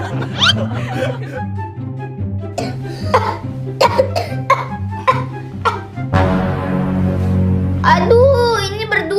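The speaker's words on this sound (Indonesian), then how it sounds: "Aduh, ini berdua batuk-batuk mulu." Two children cough repeatedly in short bursts over steady background music, with brief giggles and talk mixed in.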